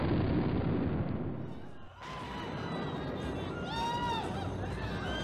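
Cannon artillery fire in a battle scene makes a loud, rumbling blast that fades out after about two seconds, followed by shouting voices and crowd noise over a continuing low rumble.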